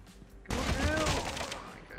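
A short burst of gunfire in the COD Mobile shooter game, beginning abruptly after a quiet moment and going on as a dense rattle that fades slightly, with a voice over it.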